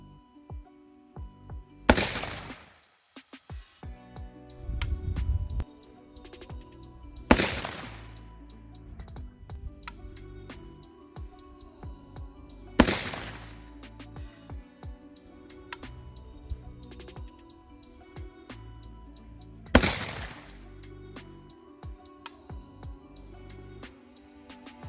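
A 5.56/.223 rifle fitted with a 1.2-6x20 scope fires four loud single shots at targets, spaced about five to six seconds apart, each ringing out before quieter handling noise fills the gaps.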